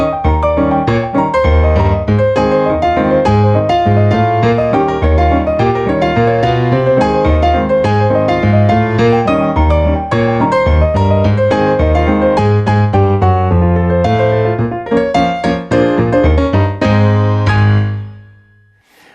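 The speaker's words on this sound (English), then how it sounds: "The characteristics of ragtime piano music usually includes a syncopated right-hand melody with a constant striding left-hand accompaniment." Ragtime piano with a syncopated right-hand melody over a steady striding left-hand bass, played loud and continuous before ringing out at the end, with no talking.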